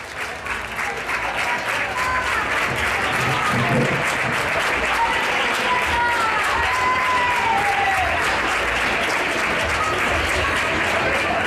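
A crowd at the Feria Andaluza de Leganés 2019 gives loud, dense applause that holds steady for the whole stretch, with a few whistles or cheers rising above the clapping.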